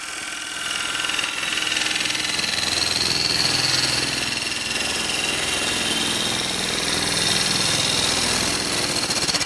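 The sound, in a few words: bowl gouge turning a wood burl on a lathe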